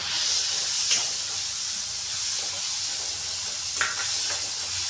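Tomatoes land in a pan of frying ivy gourd, giving a steady, close sizzling hiss that carries throughout, with brief louder flares at the start and again toward the end.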